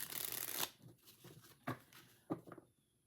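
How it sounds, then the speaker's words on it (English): Mini tarot cards riffle shuffled in a single loud, dense burst of rapid flicking, followed by a few quieter taps and card handling sounds, with no one speaking. "You can do the riffle shuffle here."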